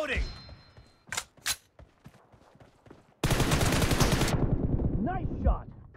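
Gunfire in a PUBG Mobile zombie-mode match: a few sharp single shots early, then a loud sustained burst of automatic fire for about a second, followed by quieter background noise and brief voice-like sounds.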